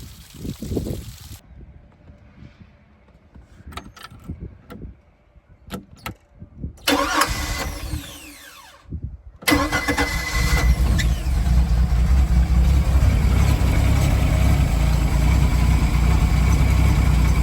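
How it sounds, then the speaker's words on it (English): After some clicks and handling noises, the inboard engine of a 1994 Four Winns Freedom boat cranks and catches, then settles into a loud, steady idle with a watery trickle underneath. "Let's turn key and see if she starts."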